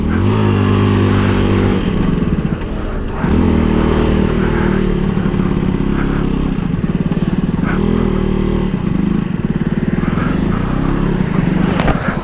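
Vespa scooter engine running close and loud in a two-stroke-style putter, revving up and easing off in repeated surges with a clattery, uneven note, and a voice faint underneath.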